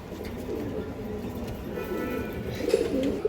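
A pair of green-necked pigeons at a breeder's farm utter soft, burbling coos, nearby and fairly quiet, rising slightly toward the end.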